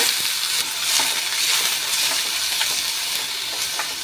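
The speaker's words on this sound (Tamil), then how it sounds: "வெங்காயம் பொடிசாக கட் பண்ணி சேர்த்துக்கோங்க" Finely chopped onions fry in a pan with mustard seeds and fennel, giving a steady close hiss and sizzle with faint scraping stirs throughout.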